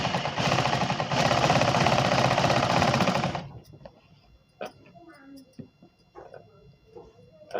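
A sewing machine stitches a petticoat in a steady, loud mechanical run for about three and a half seconds, then stops abruptly, leaving quiet room sound with faint movements and a few soft voices.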